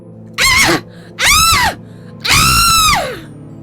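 A woman in a horror story lets out three loud, shrill screams in close succession, each rising and then falling away, with short silent gaps between them.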